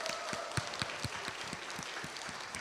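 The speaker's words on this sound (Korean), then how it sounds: "박수로." Applause from an audience at an autumn church concert, a steady wash of clapping with a few louder individual claps standing out, moderately near and continuing without talk.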